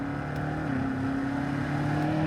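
A 2021 BMW M8 Competition Gran Coupe's engine holds a steady, loud, close drone with a faint rise in pitch over about two seconds, heard from inside the car with no talking.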